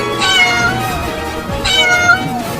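A cat meows twice in an animated cartoon, each call drawn out and rising then falling, fairly close and clear over a faint background hum.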